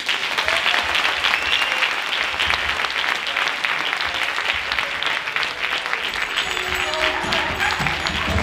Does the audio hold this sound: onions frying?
no